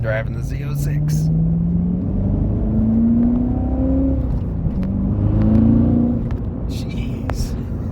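A Chevrolet C7 Corvette Z06 drives along a road near Shenandoah National Forest, its engine a steady droning rumble that rises and falls in pitch as it accelerates, with voices talking over it from inside the cabin.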